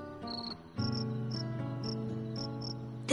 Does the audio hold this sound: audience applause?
no